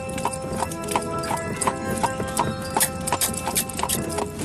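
Horse hooves clip-clop in a quick, even rhythm as the animal pulls a vehicle at about nine miles an hour, with a short whinny mixed in among the close, crisp hoofbeats.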